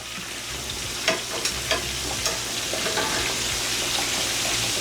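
Mustard-coated pork chops fry in a pan with a steady, bright sizzle, and a few sharp clinks and scrapes come as they are flipped.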